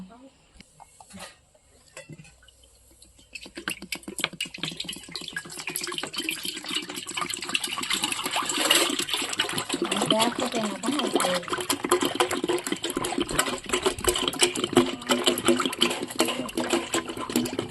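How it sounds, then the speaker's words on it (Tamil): Colostrum milk poured from a vessel while making traditional Tamil seempal, a quiet start followed by a continuous splashing, trickling liquid stream that grows and stays steady for the rest. "2 லிட்டர் சீப்பு பால் ஊத்துங்க."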